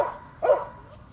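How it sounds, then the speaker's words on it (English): A dog outdoors on grass gives two short barks, the second louder, against a faint background. "this dog's annoying me"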